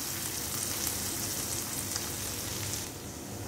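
Loud, steady sizzling and crackling of hot tempering oil poured into cooked lentils for dal tadka, a continuous close frying hiss that eases slightly near the end.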